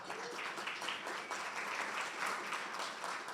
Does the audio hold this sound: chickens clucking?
no